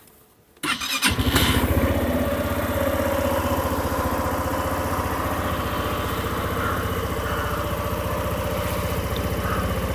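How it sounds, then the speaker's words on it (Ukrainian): A Suzuki Address V125 scooter engine starts after a brief quiet moment, then settles into a steady, close idle with an even rhythmic putter that runs for the rest of the clip. "Двигун працює без жодних нарікань."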